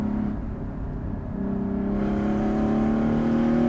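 A Porsche 718 Spyder's engine hums at a steady idle, then the revs swell gradually into a louder, climbing drone, heard close and alone without talk.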